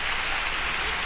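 A very short burst of audience applause, dense and steady, filling the brief moment with no gaps or voices.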